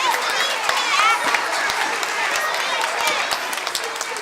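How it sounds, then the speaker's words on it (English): An audience at a school concert applauds the music teacher, with dense clapping, crowd chatter and a few sharp claps standing out, and a voice briefly audible over the applause. "If you could give her a great round of applause for all of her hard work and efforts."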